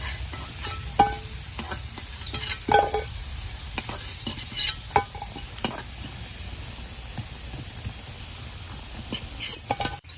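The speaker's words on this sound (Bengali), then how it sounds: "ধোকাগুলো উল্টে পাল্টে দুদিক ভেজে নেওয়া হচ্ছে লাল লাল করে।" Bengali lentil cakes (dhoka) fry in oil, a continuous close sizzle punctuated by frequent clinks and taps of a utensil against the pan as they are turned.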